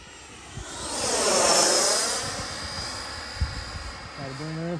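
Freewing MiG-29 twin 80mm electric ducted-fan RC jet whooshes past with a rising and falling high whine, then fades as it circles, while a person talks nearby.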